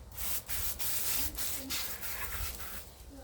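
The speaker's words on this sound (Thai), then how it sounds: "พี่ชายกำลังล้างรถอยู่" A brother washes a car, with rubbing and scrubbing strokes and bursts of spray hissing steadily throughout, close and fairly loud under a low rumbling background.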